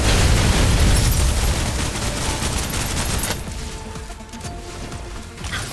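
Suppressive gunfire in the Snowbreak: Containment Zone game bursts out as a loud, dense fusillade with booms, easing after a few seconds into scattered shots and rumble.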